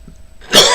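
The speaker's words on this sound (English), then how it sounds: "Incense is getting in my lungs and was causing me to cough there." A single sharp cough bursts out close by after a brief quiet moment.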